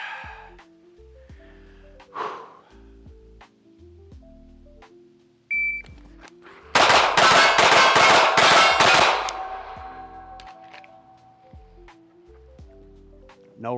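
A GP Arms 3.1-inch ported Forza pistol fires a rapid, tightly spaced string of loud, close shots during an El Presidente practical-shooting drill, preceded and followed by quieter handling noises.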